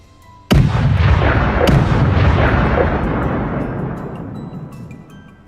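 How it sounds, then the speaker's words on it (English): A single loud rifle shot fired in a forest during a wild boar hunt, with a sharp crack and a long rolling boom, then a second sharper report, reverberating among the trees and slowly decaying. "I squeeze the trigger, and the shot cracks through the forest air."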